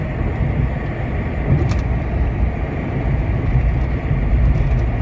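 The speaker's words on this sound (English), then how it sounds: "A lot of cars are going south because they're heading toward Baltimore to go to work." Cars driving south along a road near a dam, heading toward Baltimore: a steady, loud roar of passing traffic that stays constant throughout, with no talking.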